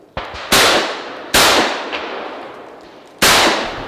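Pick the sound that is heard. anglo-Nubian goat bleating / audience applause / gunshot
gunshot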